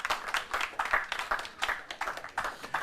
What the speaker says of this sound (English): Please, a round of applause for them as well.